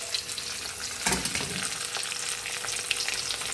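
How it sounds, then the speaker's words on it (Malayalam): Shallots, mustard seeds and curry leaves sizzle and crackle steadily in hot oil, with a louder burst of frying partway through and constant spattering until the end. "നമ്മുടെ എണ്ണ ഇവിടെ ചൂടായിട്ടുണ്ട്. അതിലേക്ക് നമ്മുടെ ഉള്ളി, കറിവേപ്പില"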